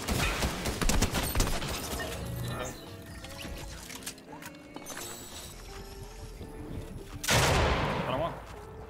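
Gunfire in Fortnite Chapter 3, a rapid volley of shots at the start, quieter game sounds in the middle, then a loud burst near the end.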